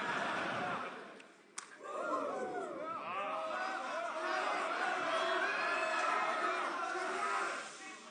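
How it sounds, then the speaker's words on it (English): In a wrestling match in Bapaume, a single sharp knife-edge chop cracks in the corner over a murmuring crowd, which swells into cheers and chatter while commentary runs throughout. "Crowd kind of quiets down there for the heaviest chop there on the 3rd one"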